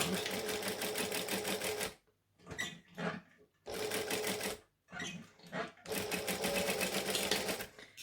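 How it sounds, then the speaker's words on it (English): A sewing machine top stitches across a sling bag in three close, steady runs of rapid needle clatter. Brief pauses with soft handling noises separate the bursts. "I'm going to top stitch across like that to lock the ring into that position"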